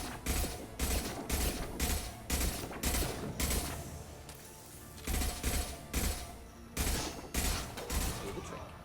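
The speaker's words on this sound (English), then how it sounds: "I think I might switch to the collector rifle." A collector rifle fires in Mass Effect 2 in repeated loud, close bursts of rapid shots. The bursts come in an uneven rhythm with a short lull midway, over a faint background hum of combat.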